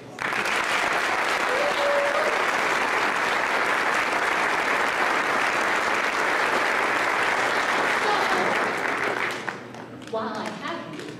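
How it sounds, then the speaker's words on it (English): An audience at a school spring music program gives sustained, dense applause that lasts about nine seconds, then fades as a voice starts to speak. "please give them a round of applause"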